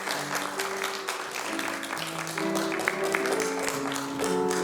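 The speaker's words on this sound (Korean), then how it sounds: "다시 한번 박수로." A church congregation claps during a Korean thanksgiving worship service, giving steady, lively applause throughout while a sustained organ or keyboard chord plays underneath.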